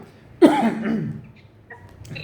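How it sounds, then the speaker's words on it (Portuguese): A single harsh cough bursts out close by, trailing off into a breathy rasp, followed by quiet room noise. "fica tossindo na minha orelha aqui"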